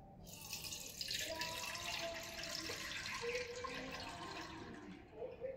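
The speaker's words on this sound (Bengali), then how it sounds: "এর মধ্যে দিয়ে দিচ্ছি জল।" Water poured into a cooking pot fitted with a cloth net for steaming rice-flour pitha, a close, soft splashing stream lasting a few seconds.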